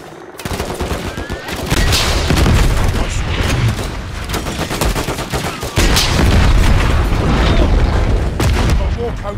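Dense battlefield gunfire and explosions from Call of Duty Modern Warfare 3 combat, a continuous loud barrage of rapid shots and heavy booms with a sharp surge near the two- and six-second marks, voices faintly mixed under the din.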